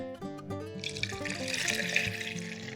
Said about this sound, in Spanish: le vamos a agregar 3/4 de taza hasta acá de agua filtrada, agua común